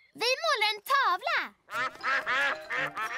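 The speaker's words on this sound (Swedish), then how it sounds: "Åh, det är ankorna." Cartoon ducks in a Swedish-language animated children's show quack loudly and close up, first in two long, wavering calls, then in a rapid run of several shorter quacks.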